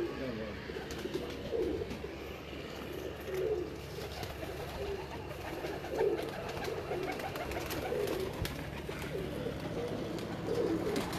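Breeder pigeons coo in a steady, overlapping murmur of low throaty calls, close and continuous, with faint background noise.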